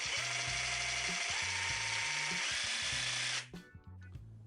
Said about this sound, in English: I also really like how you can adjust the speed of the jigsaw just on the trigger